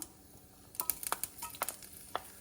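Green chillies drop into hot oil where mustard seeds and cumin have just spluttered, setting off a burst of sharp crackles and pops that die back after a couple of seconds.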